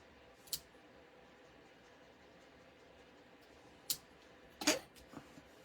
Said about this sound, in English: Now we'll just trim these ends a little bit with my ribbon scissors.